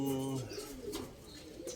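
Low, soft racing pigeon coos at the start, then fading murmurs with some background voices and noise.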